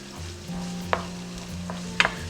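Ground beef and green onions browning in a pan, a soft steady sizzle with a couple of sharp spatula scrapes and stirring clicks, quiet and close.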